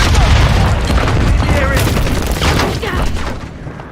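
A grenade blast in Call of Duty MW III multiplayer: a loud, dense boom sustained across the moment, with gunfire crackle and callouts mixed in, game voices speaking over the chaos.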